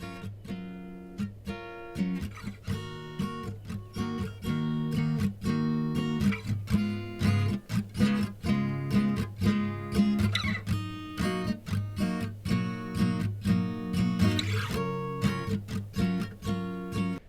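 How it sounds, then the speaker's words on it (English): Acoustic guitar strums a repeating chord progression at 120 beats per minute in the overture section of a song, with clear rhythmic strokes, moderately quiet and alone. "Then in the overture, the acoustic guitar actually plays those same chords"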